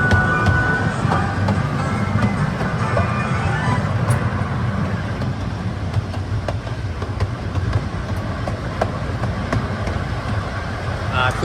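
Continuous rumble and rattle of the Casey Jr. circus train ride at Disneyland heard from the caboose, a steady clattering roll with people talking over it.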